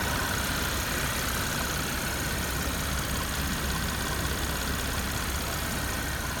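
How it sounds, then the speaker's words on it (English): A car engine runs steadily at idle with the hood up, a loud, continuous broadband rumble with no talk over it. "This is your engine."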